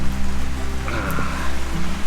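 Steady rain patters outdoors in a continuous wash of noise, with a low rumble underneath and no one speaking.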